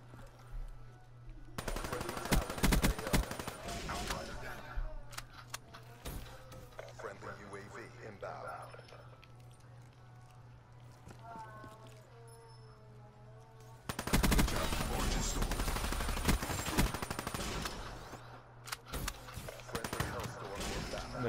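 Rapid, loud gunfire from Black Ops 3 multiplayer, including shotgun blasts, comes in dense bursts at the start and again near the end, with someone talking over and between the shots.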